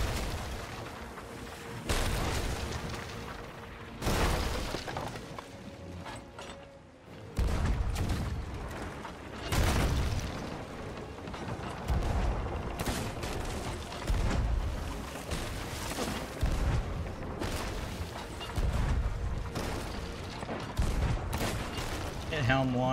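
Cannon fire during a pirate ship battle game, repeated heavy booms at irregular intervals over constant sea and ship rumble, with players talking over the action.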